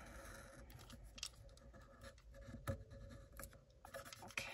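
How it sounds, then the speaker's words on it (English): Washi tape is trimmed with scissors while decorating a paper planner, quiet close scratchy snips and rubbing rustles at irregular intervals, faint throughout. "I'm going to trim the washi,"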